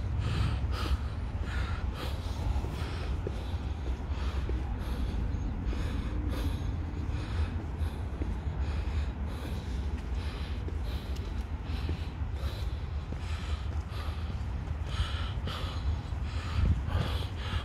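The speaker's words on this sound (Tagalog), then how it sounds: "Kasi po hinihingal po ako." Heavy, steady panting from a person walking outdoors on a hiking trail, rhythmic breaths continuing close and loud throughout with no talking.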